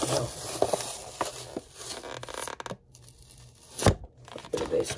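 Toy packaging being torn open while unboxing Scooby-Doo figures, a close, papery ripping and crinkling in bursts with a few sharper rips and short pauses between.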